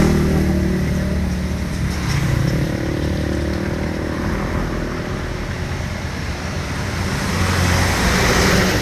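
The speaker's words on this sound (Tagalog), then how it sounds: "Ito po yung sasakyan ni Tatay Robin" A car's engine runs loud and close with a continuous rumble and road noise, holding steady with slight swells throughout.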